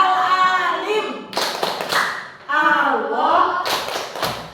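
A classroom group of students performs the tepuk al-alim clapping chant, bursts of rhythmic hand claps alternating with loud chanted voices in unison, close and lively.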